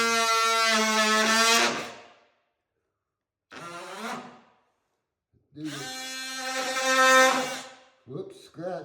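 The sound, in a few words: oscillating tool running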